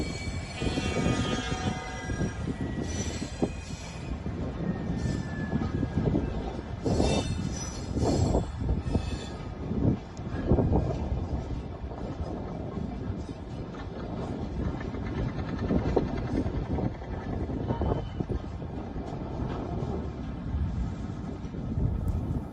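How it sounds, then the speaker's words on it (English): A train carrying Russian military assets rolls through central Russia with a loud, steady rumble of wheels and railcars and occasional squeals. No voices, just the continuous clatter of the moving train. "They are mounted on a train and they are on the move."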